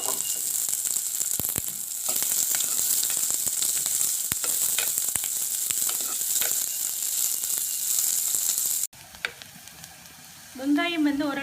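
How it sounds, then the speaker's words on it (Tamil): Onions and green chillies sizzling loudly in hot oil in a pan for curry, a steady dense hiss with occasional stirring clatter, then dropping away near the end as a brief voice is heard. "இப்போ நாங்கள் வெங்காயம் போட போகிறோம். அதோடையே சேர்த்து பச்சை மிளகாயும் போட போகிறோம்."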